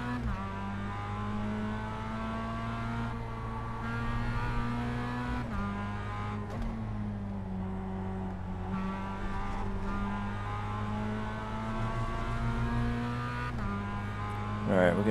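Mazda MX-5 Cup race car engine in iRacing, a continuous loud drone with repeated rev rises and drops through gear changes, a voice talking over it at times.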